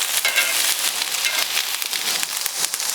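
Beer bratwursts sizzle steadily on a hot grill for a weeknight barbecue, a loud, continuous crackling hiss with brief pops, close up and without talk.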